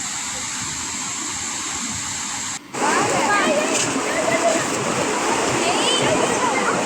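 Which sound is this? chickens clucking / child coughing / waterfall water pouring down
waterfall water pouring down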